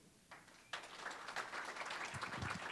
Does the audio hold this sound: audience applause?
yes